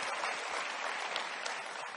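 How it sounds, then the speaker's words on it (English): A rally crowd in Phoenix, Arizona, claps in a steady, even wash of applause that stays at a moderate level, with no talking. "Give yourselves a round of applause for fording the rivers and coming here tonight"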